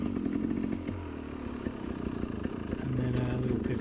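A Sherco SE 300 Factory trials motorcycle climbs a hill, its engine note rising and falling as it pivots and works the throttle, with clatter from the terrain and some talking over it.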